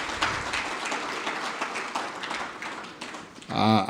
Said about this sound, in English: Another big round of applause to our board chair.